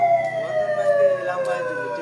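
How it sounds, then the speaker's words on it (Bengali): A siren alarm at a Bandhan Bank branch at night wails loudly in a continuous rising and falling electronic tone, with a second descending pitch sliding underneath. "বন্ধন ব্যাংকের মধ্যে থেকে কিন্তু যে সাইরেনের আওয়াজ বা যে সতর্কবার্তা হয় সেই সতর্কবার্তা আসছে"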